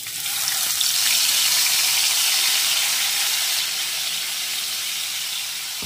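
Spice paste goes into hot oil with tempered spices for a paneer curry, making a loud, broad, hissing sizzle that holds steady and eases off slightly toward the end, close by and without talk.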